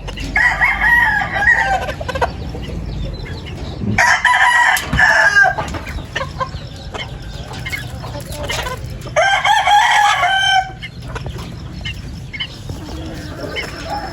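Chickens cluck while a rooster crows several times, loud and close, with short quieter gaps between the crows.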